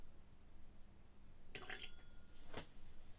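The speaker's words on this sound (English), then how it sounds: "Put a little bit of water in here." Water poured or dripped into a glass of Waterproof blended malt whisky: a brief splashy trickle followed by a single sharp drip, faint and close against a quiet room background.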